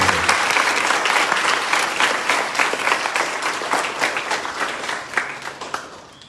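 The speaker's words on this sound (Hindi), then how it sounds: "जोरदार तालियों के साथ गौरव भंडारी जी का स्वागत है।" Audience applause welcoming a speaker at a school program in Pune, a dense, steady wash of many hands clapping that holds loud throughout and thins slightly toward the end.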